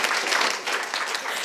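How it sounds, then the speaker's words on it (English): Dense, steady applause from a conference audience fills a short stretch, many hands clapping at once with no pauses, fairly loud and close. "Let's give a round of applause."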